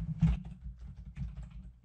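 Typing on a computer keyboard while entering text in a word-processing document, a quick run of soft key clicks close by and at moderate volume, with no voice.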